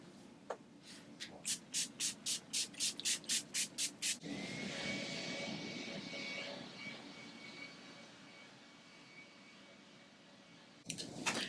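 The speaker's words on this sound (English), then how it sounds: "This is the NYX Matte Finish Fini Matte Long Lasting Setting Spray." A rapid series of about ten short, sharp bursts of NYX Matte Finish setting spray in a steady rhythm, followed by a long soft hiss and another brief burst at the end.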